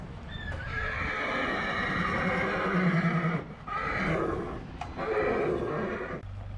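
New Forest mares neigh and whinny in agitation, with loud, drawn-out calls close by. Several long whinnies are separated by short breaks, with faint hoof sounds underneath.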